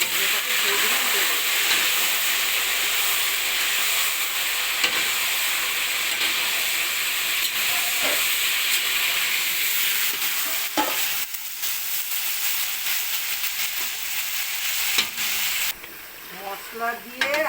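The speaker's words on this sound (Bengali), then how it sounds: "এবারে আমি ভালো করে মটনটাকে ভেজে নেবো। মটনটাকে ছেড়ে দিলাম তেলে।" Mutton pieces frying in hot oil, a steady loud sizzle and hiss throughout with occasional stirring scrapes, no talk.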